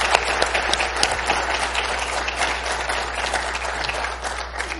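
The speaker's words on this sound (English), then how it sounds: "Let's give a round of applause." Audience applause following a conference panel discussion, a dense, steady wash of many hands clapping throughout, loud and continuous without pause.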